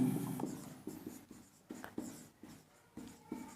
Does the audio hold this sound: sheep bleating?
no